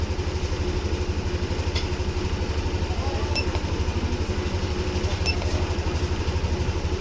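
A Yamaha NMAX scooter engine idles steadily in a fast, even putter up close, with faint clicks over it and no talking.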